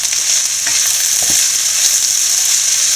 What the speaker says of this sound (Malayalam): പെട്ടെന്നെല്ലാം ഫ്രൈ ആയി കിട്ടും.